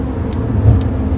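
A bus engine drones in a steady low rumble on an Arctic expedition around Yakutsk, close and fairly loud, with no voices.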